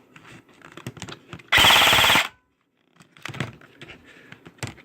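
An airsoft XM8 rifle fires one continuous full-auto burst of under a second, loud and close, between stretches of quiet mechanical handling noise.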